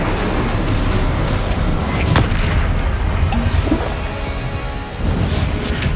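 Spells in Hogwarts Legacy, including the Incendio fire spell, make loud booming whooshes and crackling bursts in quick succession, close and continuous throughout.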